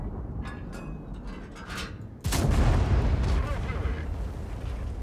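A tank cannon in an online tank battle game fires at an E50 heavy tank, a sudden loud boom cutting in midway and rumbling on under the battle noise after quieter gameplay sounds.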